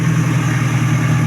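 Car engine idling smoothly at a steady, even hum, close and continuous with no talk.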